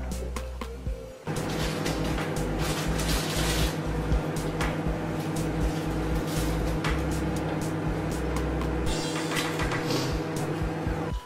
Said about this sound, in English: now, we're gonna open up the microwave,